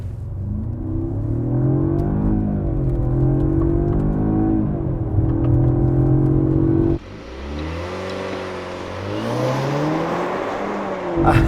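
A 2020 Jaguar XE P300 R-Dynamic SE accelerates hard from a standstill without launch control, its engine rising in pitch through one gear before a shift near the midpoint, then climbing again, loud and close with no talk.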